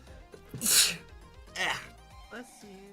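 A loud, close human sneeze, followed by a second, smaller sneeze and a faint third, with quiet background sounds between them.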